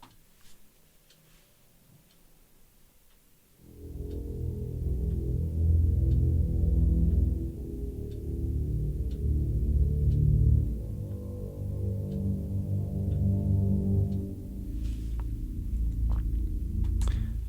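Stratosphere pad patch from the Audivor Terrastrate library, a low rumbling drone that swells in after a quiet start and holds steady with slow surges, sustained alone for well over ten seconds.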